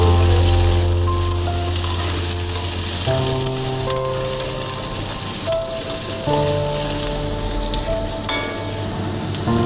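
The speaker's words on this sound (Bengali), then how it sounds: "আলুটা এখানে ভাজা হয়ে যাবে।" Sliced potatoes fry in a pan with onion and black cumin, giving a loud, continuous, crackling sizzle over a low steady hum, with occasional sharp pops.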